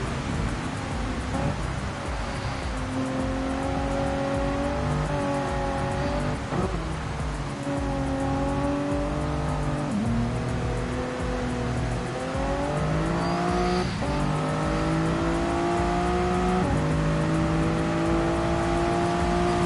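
Toyota Supra race car accelerating on a wet Suzuka circuit in a sim race, engine note repeatedly rising and falling through gear shifts, loud and continuous from the cockpit.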